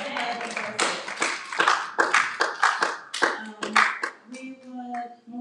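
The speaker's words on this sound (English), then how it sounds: "I want to give you another round of applause for memorizing" A small audience at the Macedonia Pioneers award ceremony claps for a child, a few close hands beating in uneven bursts, with brief talk and some children's voices mixed in near the end.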